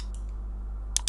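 A computer mouse clicking while someone works in animation software: a few quick, faint clicks, two of them close together near the end, over a steady low hum.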